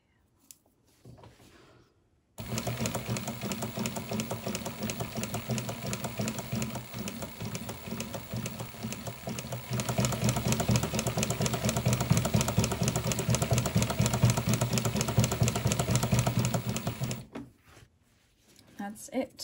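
A Singer 114w103 sewing machine runs steadily for about fifteen seconds with a fast, even mechanical whir and rattle, growing louder midway, then stops.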